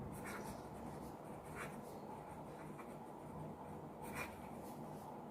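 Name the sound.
writing a maths solution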